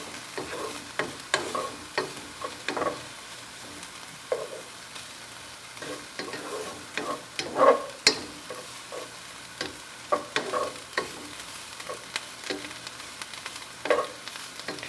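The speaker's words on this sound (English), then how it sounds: "you just want to saute that in here a little bit too and render that into the onion mixture" Garlic sautés into an onion mixture in a pot for pumpkin soup, giving a steady low sizzle broken by frequent scraping stirs and occasional light clinks of a spoon, close and unaccompanied by speech.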